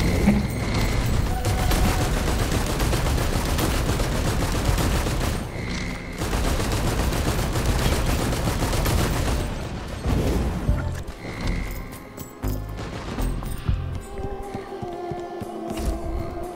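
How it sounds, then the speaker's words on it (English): A gunner turret in a shooter video game blazes away in dense, continuous heavy fire layered with booms and mechanical clatter, easing into sporadic bursts near the end. "I just got a gunner turret."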